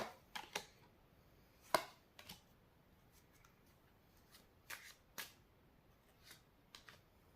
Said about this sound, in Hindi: कार्ड्स निकाल लेती हूँ आपके लिए, फिर बताती हूँ आप लोग को।